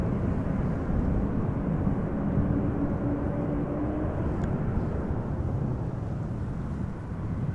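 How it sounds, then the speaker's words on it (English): A Boeing 787-9 Dreamliner on arrival approach from the east into Amsterdam Schiphol, a steady broadband jet rumble sustained throughout, fairly distant and even in loudness, with no talk. "Boeing 787-9 Dreamliner has taken 5 hours and 33 minutes to get here so far."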